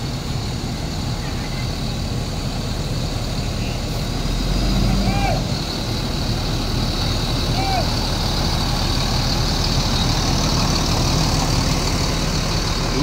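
A luxury class intercity bus idles at Kampung Rambutan bus terminal in Jakarta, its engine giving a steady low rumble throughout amid busy terminal noise, with brief chirps and faint voices in the background.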